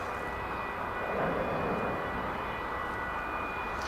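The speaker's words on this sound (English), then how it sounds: "Here comes that Alaska jet on the far right side of your screen." Alaska Airlines jet, flight from Seattle, on approach to DFW Airport, heard from an outdoor plane-spotting plaza as a steady, fairly distant engine roar that holds evenly throughout with no talking.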